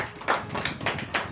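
Several sharp hand claps in a quick, steady rhythm, close and fairly loud, with no talk over them.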